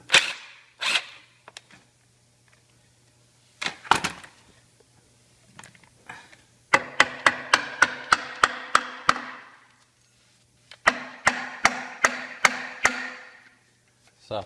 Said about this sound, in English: Soft face hammer.